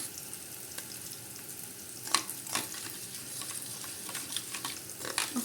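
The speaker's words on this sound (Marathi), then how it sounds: "असं चांगलं मिक्स करून घ्यायचं।" Egg bhurji mixture with tomato, chilli, coriander and salt being stirred in a frying pan: a soft continuous sizzle with scattered scraping clicks of the spoon, close and fairly quiet.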